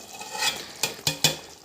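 Eggs stirred with a utensil in a hot frying pan, a steady sizzle under three sharp scraping strokes against the pan, close and without talk.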